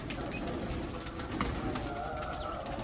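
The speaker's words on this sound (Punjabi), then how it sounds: "ਕਬੂਤਰਾਂ ਨੇ ਦੇਖੋ ਕਿਵੇਂ ਗਾਹ ਪਾਇਆ ਵੇ" Pigeons coo softly in the background amid a busy outdoor hum as they feed on scattered grain and bread, with faint fluttering and scattered bird sounds.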